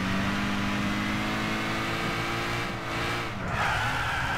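A car drifting in the Gran Turismo 6 racing game, a sustained engine whine and tyre hiss that dips, then shifts pitch as the skid ends and the engine climbs again, steady and loud without voices.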